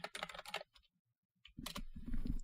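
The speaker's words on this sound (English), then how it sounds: "I'm gonna type, it's gonna be loud." Short bursts of computer keyboard typing, crisp and close in a quiet ASMR setting, with a pause in the middle before another clattering run of keys.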